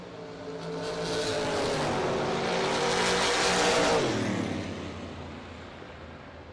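Fox body and Maverick drag race cars roar past at a drag strip. The engine noise swells to a loud, rising peak and then falls away as they pass, heard from a distance with no talk.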